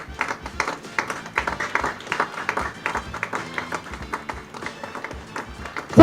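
Applause for the champion university at a closing ceremony of an interdepartmental modelling competition, a room of people clapping in a lively uneven patter, moderately loud with some scattered louder claps and faint voices.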